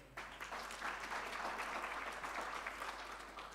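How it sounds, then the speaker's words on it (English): An audience at a university research chair launch event applauds after a choir singer's performance, a soft, even patter of clapping heard from some distance, continuing steadily throughout. "Yes, please applaud."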